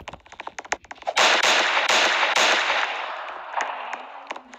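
Gunfire in a Roblox video game: a quick run of sharp clicky shots, then a burst of several loud cracks that trail off into a fading wash, with a few scattered clicks at the end.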